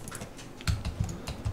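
Typing a command on a computer keyboard and pressing Enter, several quick close key taps in an irregular burst with a couple of heavier strikes, no voices.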